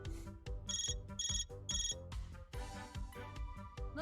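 A phone ringtone from the video game Azur Lane Crosswave chimes in a bouncy repeating melody over a rhythmic beat, with bright pulsing tones recurring several times, clear and alone.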